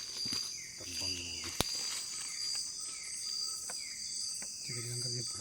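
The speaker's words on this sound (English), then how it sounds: "See the cricket? Cricket." Crickets chirp in a continuous, faint high trill at an eco camp by Tungog Lake, with quiet talk and occasional bird or rustling sounds in the background.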